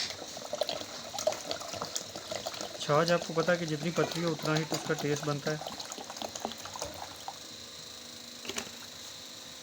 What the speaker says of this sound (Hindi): और मज़ीद भी हम इसके अंदर पानी डालते हैं थोड़ा।